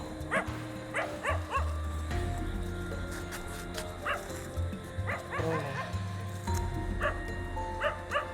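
Several dogs barking at night along a road, intermittent yips and barks at moderate distance over steady low rumble, with faint voices now and then.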